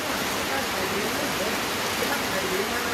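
Heavy rain pours steadily during a flash flood in a hillside village in Thailand, a dense, continuous broadband hiss with no breaks, loud and close throughout.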